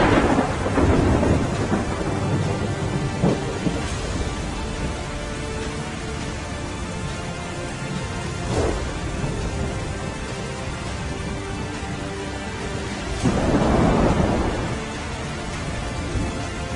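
Heavy monsoon rain pours in Gujarat as a dense, constant roar, with deep rolls of thunder rumbling through it several times, loud and close.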